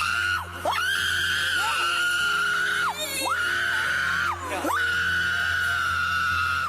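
Handcuffed people being arrested scream loudly and almost continuously, long piercing wails broken only by brief catches of breath, close and harsh.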